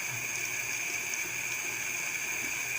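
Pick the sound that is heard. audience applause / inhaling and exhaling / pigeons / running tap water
running tap water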